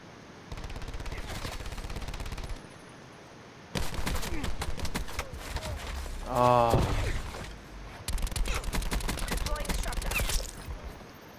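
Auger DMR rifle fire in Call of Duty Black Ops 4 cracks out in quick bursts of sharp shots amid mechanical clicks and game effects, with a voice in the background.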